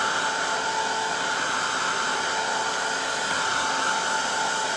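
A hair dryer blows steadily to heat and dry dye, a continuous close, loud whooshing hiss with a faint whine, unchanging throughout with no talking.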